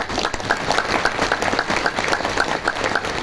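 An audience at a Gita Jayanti religious discourse in a Delhi ashram claps continuously, a dense, even patter of many hands that holds steady throughout at moderate loudness.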